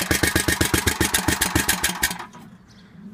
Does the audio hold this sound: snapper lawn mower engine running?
yes